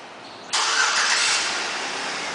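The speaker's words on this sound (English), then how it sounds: "one of the many options in the vehicle, which is the remote start" A 2009 Chevrolet Suburban LT engine cranks and catches after a quiet start, then settles into a steady, loud idle held close by for the remaining seconds.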